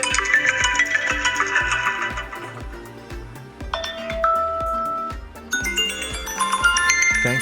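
A ringtone plays from the top speaker of a repaired iPhone XR, a bright chiming melody of bell-like tones over a steady pulsing beat, close and clear with no talk.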